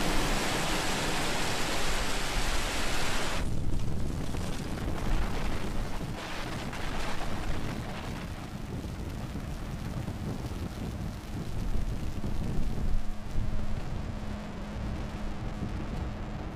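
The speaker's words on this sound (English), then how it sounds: "Liftoff, Falcon 9. Vehicles cleared the tower." A SpaceX Falcon 9 lifts off from Vandenberg, California, carrying Iridium NEXT satellites: a loud, continuous broadband roar with crackling rumble throughout, its bright hiss falling away after a few seconds.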